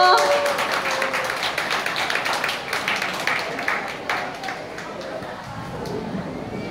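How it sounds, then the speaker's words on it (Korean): Audience applause fills a hall after an ocarina performance at a club arts festival in Seoul Citizens Hall: dense, steady clapping close by that slowly thins, with murmured crowd noise underneath. "박수 쳐주세요."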